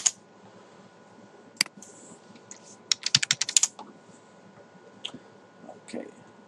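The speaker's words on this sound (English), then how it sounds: "you can type in any brand name" Someone types on a computer keyboard, a sparse close patter of key clicks with a quick burst of several taps in the middle and scattered single presses.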